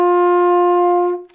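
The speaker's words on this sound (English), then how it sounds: "And D sounds like this." A single sustained D on an alto saxophone holds steady and strong for just over a second, with a rich, reedy tone, then fades out.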